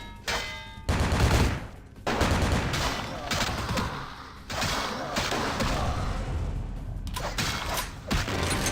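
Gunfire in the Vampire The Masquerade Bloodlines video game: loud, broadband bursts of shots and booms in several clusters across the stretch, with a voice faintly present underneath.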